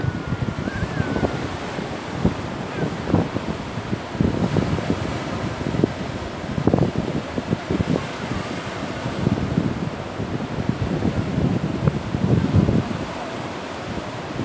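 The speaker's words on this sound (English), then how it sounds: "Very windy today." Strong wind buffets the microphone on Cove Beach at Sandown, Isle of Wight, a steady roaring rush with loud gusty bursts, and surf faintly underneath, with no voices.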